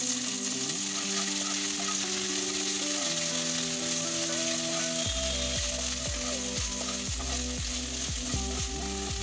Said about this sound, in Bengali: ওই তেলের মধ্যেই আমি কাজু এবং কিশমিশটাকে হালকা একটু নাড়াচাড়া করে ভেজে নিচ্ছি